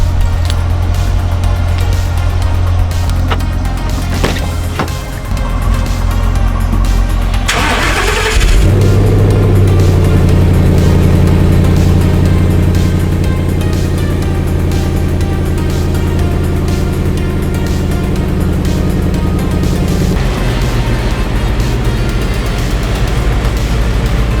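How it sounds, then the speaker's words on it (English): A Ford Mustang starts up in a garage. Several clicks and a cranking burst lead to the engine catching, then a loud, steady idle with a brief rev before it is driven inside. No one talks. "I need to still move the Mustang inside the garage."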